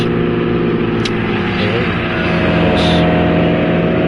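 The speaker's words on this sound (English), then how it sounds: "So the car is louder than our voice." A GT3 race car in the Project Cars 2 video game at Imola, its engine droning loud and steady with layered harmonics, slight shifts in pitch, filling the whole stretch.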